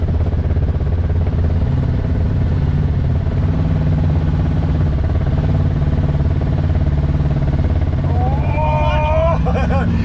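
A Yamaha motorcycle rides slowly with the clutch pulled during a slow race at a motorcycle rally, its steady low engine drone continuous and close, with other bikes and voices around.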